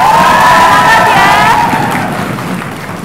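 A crowd at a high-school quick-answer quiz competition breaks into loud cheers and whoops with some applause, swelling briefly and then fading over a few seconds.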